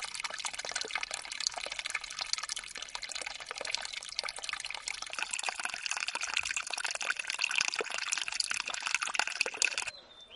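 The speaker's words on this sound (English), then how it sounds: "there is an artesian well at the foothill. The flow of water is very thin here." A thin, steady trickle of water from an artesian well at the foot of a hill, a continuous bright splashing and dripping that runs unbroken close by and stops near the end.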